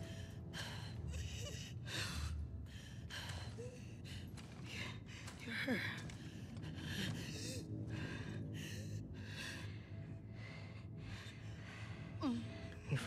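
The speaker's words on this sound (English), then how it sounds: "Your breathing's worse." A character in The Last of Us Part 2 breathes in faint, labored, rhythmic gasps and rasping exhales, with some quiet voice sounds mixed in.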